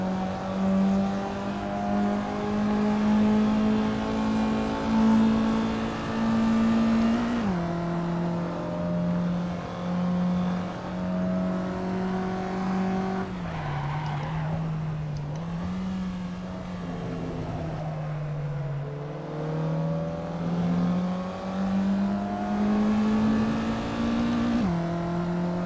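Race car engine heard from on board during the final laps of a night race, a loud, sustained drone that shifts pitch with gear changes and throttle lifts, with no talking.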